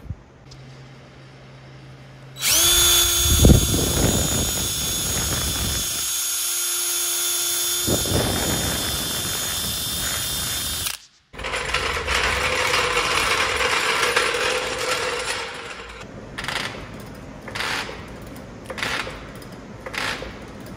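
A power tool removes wheel bolts from a Porsche 911, with loud bursts of whirring and ratcheting separated by short pauses, then a rapid series of short buzzing pulses, close up with no talk.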